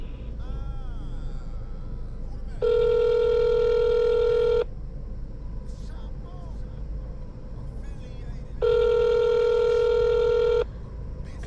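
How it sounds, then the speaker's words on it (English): A phone ringback tone sounds twice in long steady bursts while calling a delivery customer during an Amazon Flex route, with faint background noise between the rings. "We calling the customer."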